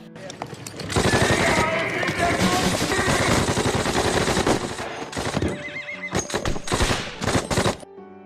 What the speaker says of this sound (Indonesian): salah satu prajuritnya sudah menembak dengan membabi buta tentara Nazi itu